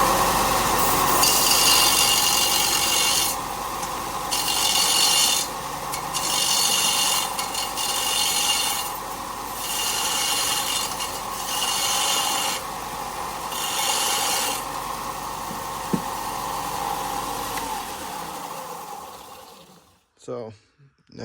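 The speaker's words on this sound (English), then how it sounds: "So, for deburring, this is one way to do it." Steady rasping and scraping of a deburring tool working the cut end of a stainless steel exhaust tube, in repeated strokes with brief pauses, fairly close and continuous, ending abruptly with a few handling clunks.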